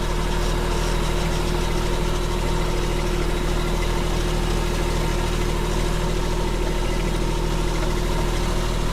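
A compact loader's engine idles steadily at about 1,300 RPM, a constant close, low humming drone with a faint vibration and no talking.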